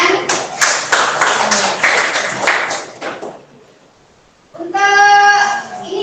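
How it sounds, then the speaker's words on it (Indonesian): A classroom group clapping for a few seconds, a burst of close, uneven applause that fades into quiet, followed by a voice. "Tepuk tangan."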